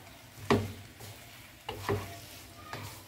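Shell macaroni fried and stirred in a pan, a few distinct scraping stirs over a faint steady sizzle, close and fairly quiet with no talk.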